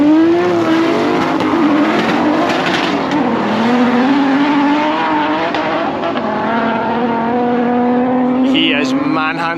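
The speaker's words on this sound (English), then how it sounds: "this BMW that's coming here, this is actually a drift car, as you'll see, but he's about to do a naughty burnout" A high-revving engine in a BMW drift car screams steadily under a burnout at a raceway, loud and close, with tire noise and someone talking over it.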